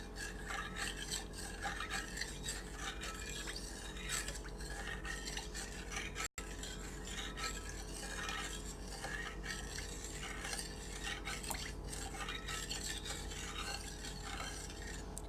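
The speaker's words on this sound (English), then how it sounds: "Let's mix that all up together." Chicken, broth and rice being stirred together in a crock pot, a continuous close rasping, rubbing scrape of the spoon against the pot that runs steadily with one brief break, and no voice.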